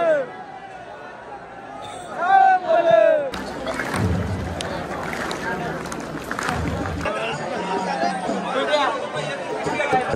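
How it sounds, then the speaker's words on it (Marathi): Dense crowd chatter at a night temple fair in Adamapur, a continuous hubbub of many voices close by, with people talking nearby. "एकदम भयंकर अशी गर्दी आहे."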